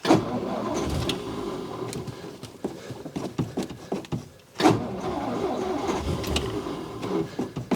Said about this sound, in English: Oh, starter's doing that weird thing it does.